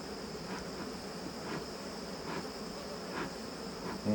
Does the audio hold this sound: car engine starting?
no